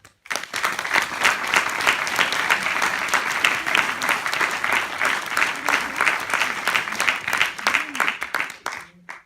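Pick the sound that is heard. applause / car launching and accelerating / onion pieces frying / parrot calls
applause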